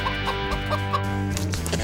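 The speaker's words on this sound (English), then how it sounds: "I saw some chickens out here. Wild chickens are good eating." Wild chickens on a deserted island clucking: a few short, soft clucks repeat over a steady droning background hum, fairly faint and without voices.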